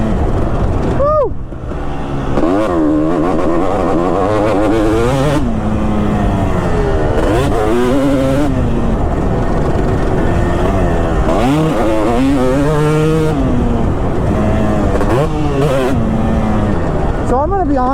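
A 2005 Kawasaki KX250 two-stroke dirt bike screams close by, its engine revving up and down in rapid rising and falling sweeps throughout while a rider talks over it.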